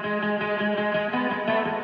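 Sampled electric guitar loop for an 80s-style pop track, playing a steady chordal riff with effects-heavy, distorted, chorused tone; continuous and loud throughout, with no voices over it.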